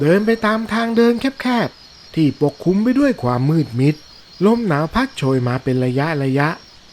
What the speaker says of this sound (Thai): และเสียงจิ้งหรีดร้องระงม